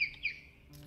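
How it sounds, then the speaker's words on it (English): Two quick bird chirps, close and clear, sound in a modded game world before a faint background hum. "those bird noises can be quite distracting at times"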